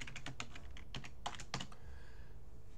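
Quick, even keystrokes on a computer keyboard, a steady run of close, soft clicks that stops after a couple of seconds, with no talking.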